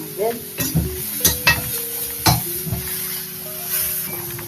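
Pumpkin being cooked soft in a pan gives a brief series of stirring knocks and scrapes over a faint simmering sizzle. There are several distinct strokes, with a quiet murmur of a voice in the background.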